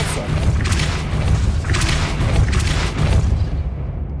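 The Depulso force spell in Hogwarts Legacy lands as a series of heavy booming thuds, several impacts in a row, loud and close before fading out.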